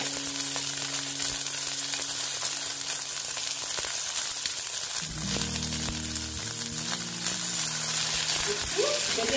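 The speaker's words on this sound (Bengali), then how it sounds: "একটু ভেজে নিচ্ছি।" Chillies frying in a pan give a steady, close sizzle that runs the whole time, with a faint hum underneath.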